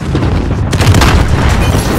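Loud, sustained booming rocket explosions in a shooter video game, a dense roar that swells after a brief moment and stays heavy throughout.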